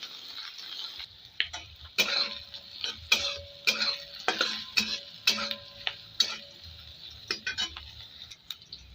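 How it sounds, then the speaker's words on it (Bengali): Capsicum fries in a pan for fried rice, giving off sporadic sharp crackles and pops over a quiet, low sizzle, close by. "এটা এখন ক্যাপসিকাম ভাজবো"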